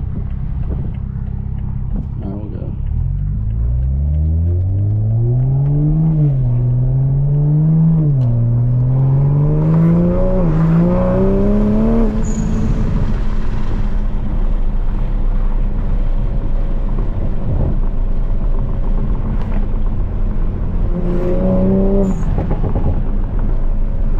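Cars passing while driving a tuned 500+ whp 2020 Supra on Nebraska roads, with steady engine and road roar throughout and passing vehicles sweeping by up close.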